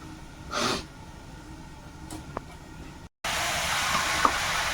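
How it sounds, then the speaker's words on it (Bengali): Chicken meat frying in a pan on a rural Sundarban kitchen stove, stirred with a spatula: steady sizzle with a couple of scraping strokes, then the frying grows louder and brighter after a brief cut. "মাংসটা আবার একটু আলগা করে আবার একটু খুঁটি দিয়ে নেড়ে দিচ্ছি"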